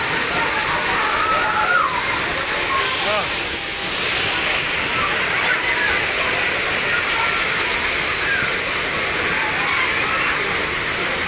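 Jhor waterfall pouring down, a steady loud broadband roar of falling water that fills the whole stretch, with friends' voices faintly mixed into the rushing noise.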